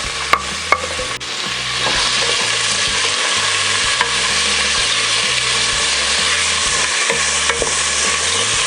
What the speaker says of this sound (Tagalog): Mas gusto ko kasi na ginigisa muna itong ating bawang, sibuyas at saka luya.